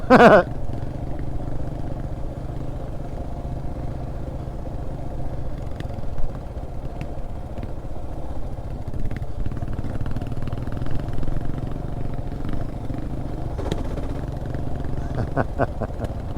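A Kawasaki KLR motorcycle rides a sandy, muddy trail strewn with pine straw, its engine a steady close drone with clattering bumps and a louder burst at the start.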